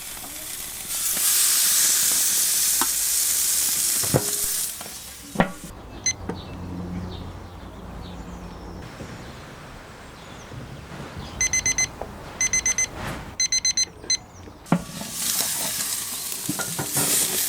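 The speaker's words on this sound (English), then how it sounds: "The steaks go onto the grill, just 2 minutes per side for medium rare." Steaks sizzle on a Weber Q grill heated to 250 degrees C, a loud hiss that fades midway into quieter sputtering with a few sharp clicks and rapid beeping bursts before the loud sizzle returns.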